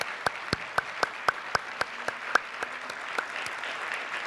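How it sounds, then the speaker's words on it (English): Award ceremony audience applauding the honorees, a sparse, slow round of individual claps spaced evenly apart, fairly close and fading toward the end. "let's give them all a huge round of applause for all their efforts"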